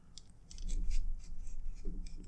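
Scissors snipping off excess paracord on a bracelet, a few close, crisp cutting sounds over a short quiet stretch.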